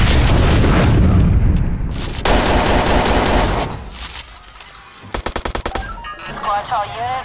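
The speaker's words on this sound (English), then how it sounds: "Somebody's shooting out here." Police shootout gunfire in the video game Watch Dogs: loud, heavy automatic bursts and booms up close, then a rapid string of sharp shots, with voices briefly heard among them.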